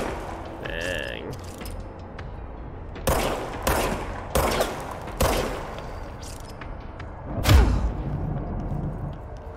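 Gunfire from a gun in the video game Control: several sharp, loud shots in separate bursts over a low steady background, with a heavier, booming blast near the end.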